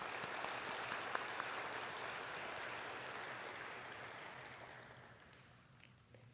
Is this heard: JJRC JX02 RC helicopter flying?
no